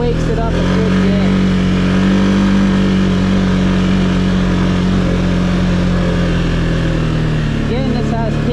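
A 650cc single-cylinder Can-Am Outlander Pro HD7 ATV in sport mode runs steadily with a loud, sustained engine drone and a rising rev near the end.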